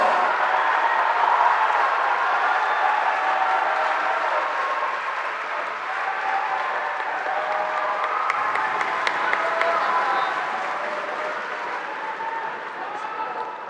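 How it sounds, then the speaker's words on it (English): Large concert audience applauding a choir at the close of an evening performance, dense sustained clapping that swells loudly at first and then eases slightly, heard alone without speech. "Let's give them a warm round of applause."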